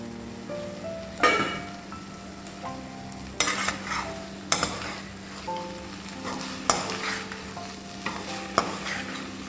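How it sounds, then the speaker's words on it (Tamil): Brinjal masala bubbles and sizzles in a pan, a steady close crackle with occasional louder spoon scrapes and clinks against the metal, no talking. "இப்போது இது ஒரு 2 மினிட்ஸ் அப்படியே சிம்மர் ஆகட்டும்னு விட போகிறோம்"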